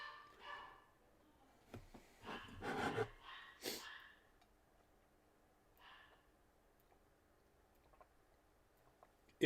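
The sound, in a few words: dogs barking in the house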